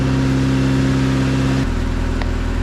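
A 1990s Honda Accord engine after a manual transmission swap, running steadily while the gears are tested, a loud close drone that drops to a lower, rougher pitch partway through.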